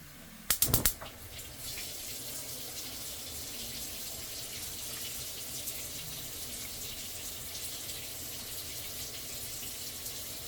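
Tap water pouring steadily into a pot holding two cups of rice, a continuous hiss after a brief clatter at the start, close and even throughout.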